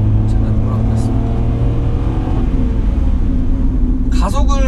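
A Kia Ray's engine drones steadily from inside the car as it accelerates, climbing toward about 5000 rpm, a loud constant rumble with a voice faintly over it.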